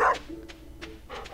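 A dog barks in the Stardew Valley farming game, several short game-sound yips spaced across the moment, fairly close and clear with no talk over them.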